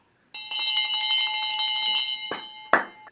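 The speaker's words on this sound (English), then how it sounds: "I'm going to ring this victory bell for you" A handheld victory bell rung rapidly on a podcast set: a close, bright clatter of quick strikes for about two seconds, then two sharp, separate clangs.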